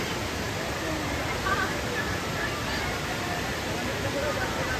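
Continuous broadband rush of a waterfall, loud and steady throughout, with faint voices of people mixed into the roar.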